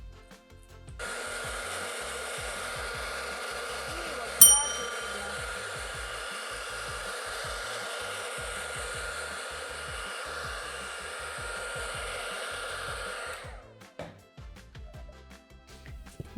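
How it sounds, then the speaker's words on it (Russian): A hair dryer blows hot air onto a reverse-decoupage Easter plate, a steady near whir running for about twelve seconds, then switching off into quiet handling noises. "горячим воздухом фена"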